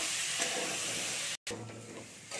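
Pumpkin pieces with turmeric fry uncovered in a pan, giving a dense, steady hiss of sizzling oil up close with one brief break, no talk.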